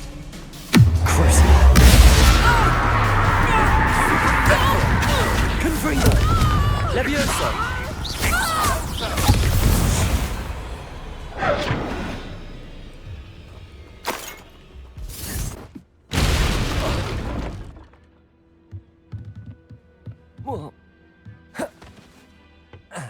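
Confringo blasting spell from Hogwarts Legacy bursting in a loud explosion with shattering debris, followed by a run of crashing impacts and bangs that thin out into scattered clatters, game voices heard in the mix.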